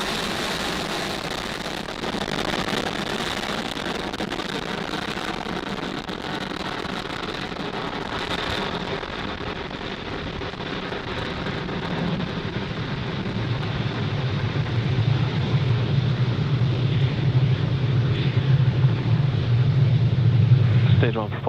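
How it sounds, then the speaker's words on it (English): Falcon 9 rocket lifting off from Pad 40 at Cape Canaveral Space Force Station, a broad, distant roaring rumble that swells louder and deeper toward the end, with a voice talking over it. "Falcon 9 has successfully lifted off from Pad 40 at Cape Canaveral Space Force Station"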